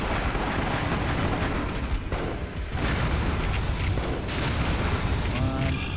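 Heavy, booming grenade blasts in the Resident Evil: Umbrella Chronicles video game roll over a dense, continuous rumble of combat noise, loud and sustained with a brief dip in the middle.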